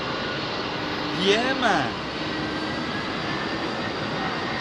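A jet airliner departs runway 27R at London Heathrow, a broad continuous engine roar heard close by with a brief swell in the middle, while someone speaks a few words.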